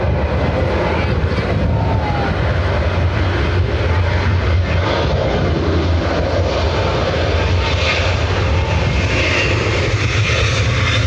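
A Ryanair airliner departing Dublin Airport for Alicante roars loudly and steadily, a broad engine rumble sustained throughout with no voices over it.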